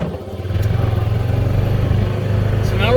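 A 2020 Honda Pioneer 500 UTV engine cruises with a steady mid-pitched hum and light clatter, fairly loud and close, while a person talks over it.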